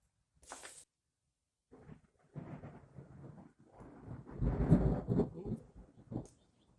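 A thunder sound effect from a relay-controlled arcade hardware setup: a sharp hiss burst, then rolling, rumbling bursts that swell to a loud peak and fade in stages.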